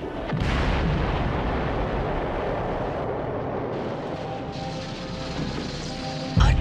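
A loud, sustained cartoon bomb blast in a Transformers animated episode, a broad roaring rumble that fills the whole stretch and then cuts off with a sharp final crack, with no talking.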